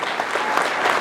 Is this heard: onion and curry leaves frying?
no